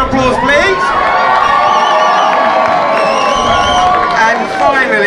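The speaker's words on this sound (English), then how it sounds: "round of applause, please" Pub crowd at a surprise fundraising gig in a tavern cheering loudly, with shouts, whoops and whistles over a dense sustained roar of voices and some clapping, close and loud throughout.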